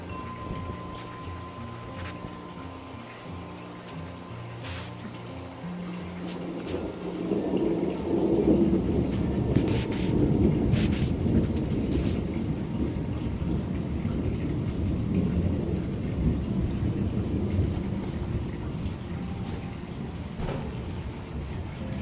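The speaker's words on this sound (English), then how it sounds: "That is a thunderstorm in the northwest." A thunderstorm in the northwest with steady rain, a low rolling rumble swelling midway and holding as a broad, continuous wash of rainfall and distant thunder, with no voices.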